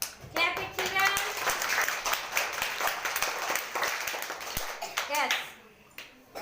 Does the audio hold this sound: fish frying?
no